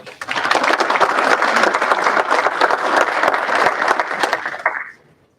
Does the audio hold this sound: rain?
no